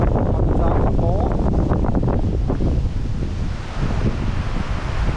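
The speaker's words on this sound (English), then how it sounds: "It's just windy." Strong, dry wind during Hurricane Milton roars and buffets the microphone in a continuous rush, gusting slightly stronger and weaker over the few seconds.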